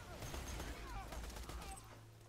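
Corrosive TDR shotgun in Borderlands 2 firing amid a dense wash of game combat noise, several sharp blasts packed together over the first second and a half before the din tapers to a steady hum.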